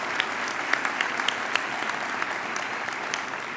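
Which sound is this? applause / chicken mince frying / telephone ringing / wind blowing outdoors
applause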